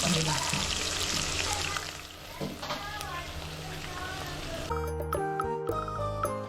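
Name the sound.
cooking oil poured into a pan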